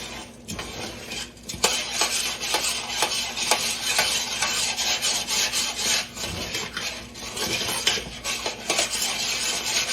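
A spoon steadily scrapes and stirs thick caramel cake icing in a pot, a continuous rubbing rasp with repeated strokes, close and fairly quiet, no talking.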